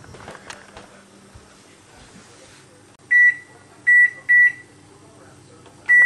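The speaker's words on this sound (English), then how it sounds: "Don't forget to turn on your timer." An oven timer set for baking cookies gives four sharp electronic beeps, three in quick succession and one a little later, over quiet kitchen background noise.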